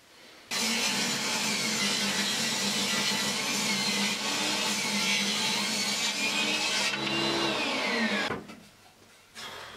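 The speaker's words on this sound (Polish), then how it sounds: "zwyczajnie przetnę to wzdłuż piłą i też powinno być dobrze" A hand saw rips lengthwise through pallet wood in a long steady run of rasping strokes, close and loud, then stops abruptly near the end.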